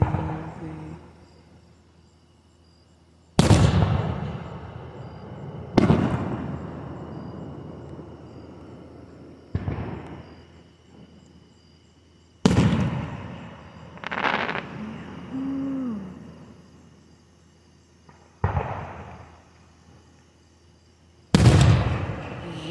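Fireworks at Roscoe, heard from a ridge, go off in a series of sharp booms spaced several seconds apart, each followed by a long rumbling decay.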